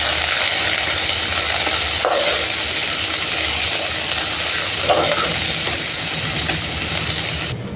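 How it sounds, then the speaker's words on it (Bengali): Chopped onions fry in hot oil in a wok with cinnamon and cardamom, a loud, dense, continuous sizzle close by, with occasional stirring scrapes and no speech. "পেঁয়াজটা আমার লাল লাল করে ভাজা হয়ে গেছে,"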